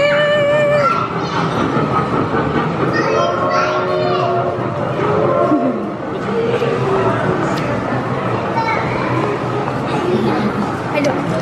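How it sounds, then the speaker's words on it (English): A train rolls past outdoors, a busy rumbling wash with faint rhythmic clatter running throughout, partly buried under children's chatter and people talking nearby. "Did you see the train?"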